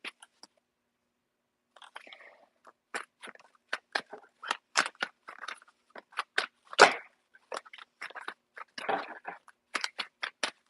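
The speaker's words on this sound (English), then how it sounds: "I'm going to shuffle two more times." A deck of tarot cards is shuffled by hand up close, giving a quiet run of irregular papery clicks, snaps and flutters after a brief near-silent pause at the start.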